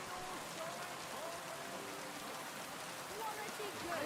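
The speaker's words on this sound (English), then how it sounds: "This rain is coming down." Steady rain hisses down in the game world of Kingdom Come: Deliverance II, a dense even patter with faint tonal effects drifting through.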